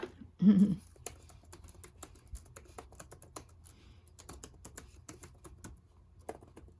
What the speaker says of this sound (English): So we're going to type in here.